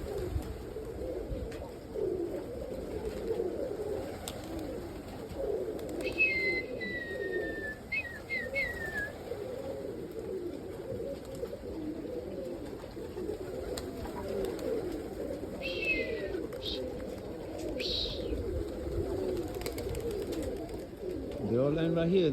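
Soft, low cooing of roller pigeons, including young birds, runs steadily throughout, with a few brief high whistles and chirps from other birds over a constant outdoor murmur.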